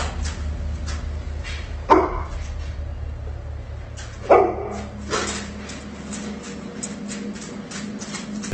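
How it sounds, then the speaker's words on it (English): A dog gives a few brief whimpers and yips indoors at night, spaced seconds apart, moderately near, over a steady low hum. "Lauren's dog begins to whimper before an object falls on its own"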